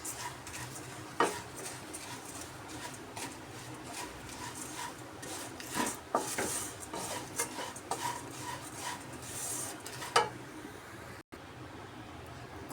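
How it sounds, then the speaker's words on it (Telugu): Flattened rice mixture (atukula mixture) being stirred in a pan, with repeated scraping and clinking of a spoon against metal in an uneven rhythm, close by, and no talking. "ఇప్పుడు బాగా కలుపుకుందామండి."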